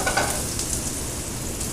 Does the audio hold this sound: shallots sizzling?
yes